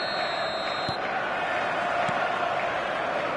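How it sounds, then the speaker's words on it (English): Stadium crowd in the FIFA 25 football video game, a steady distant roar and murmur of fans on a matchday night with faint clicks, no clear speech. "the matchday noise at this place is truly special"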